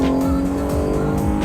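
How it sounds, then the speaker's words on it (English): A car engine revs loudly and close by in short rising and falling bursts, with a harsh tonal whine over a rough low rumble across a brief moment. "hear that engine?"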